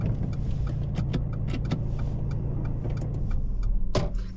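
A parked car idles steadily during a driving lesson, a low continuous engine hum with a few small clicks and knocks on top and a brief louder rustle near the end.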